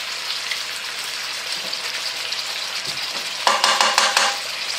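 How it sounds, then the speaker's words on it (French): Squid pieces browning in a pan hiss with a continuous sizzle, then burst into louder spitting and crackling near the end as juice is thrown off, with no voices. "Là, on va les faire dorer un poil. Vous allez voir, ça va cracher du jus."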